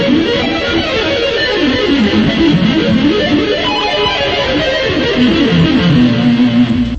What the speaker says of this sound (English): Like if I'm doing hammer-ons, a lot of times I'll double up on the first couple notes